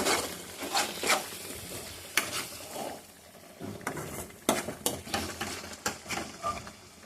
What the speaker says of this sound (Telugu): సరిపడ ఉప్పు వేసుకొని దీన్ని ఇలా తిప్పేసుకోవాలి.